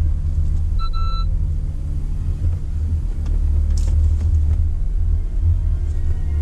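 A car engine idling low and picking up with a gentle touch of throttle, a steady close rumble that swells slightly as the car creeps forward.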